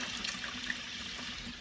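White distilled vinegar is poured generously into a sink, making a steady close gurgling splash of liquid that runs without pause.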